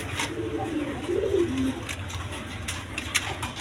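A pair of Danish pigeons gives a few soft, close coos in a short rising-and-falling phrase, with light rustling and clicks around them.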